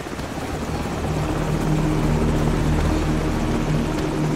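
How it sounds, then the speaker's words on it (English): A helicopter in the video game Call of Duty 4: Modern Warfare, its steady rotor thrum and engine drone holding constant throughout, loud and close, with no speech over it. "Oh, enemy helicopter."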